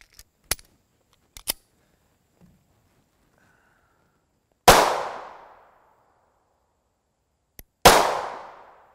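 Two sharp close gunshots from an STV Scorpio 9mm pistol firing 124gr FMJ rounds at an outdoor range, each with a long decaying echo, preceded by faint clicks and handling sounds.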